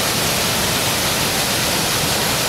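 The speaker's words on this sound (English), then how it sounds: "sounds like a waterfall, something going on down there" Waterfall rushing somewhere below, heard as a steady, loud broadband roar of falling water that fills the whole stretch without pause or change.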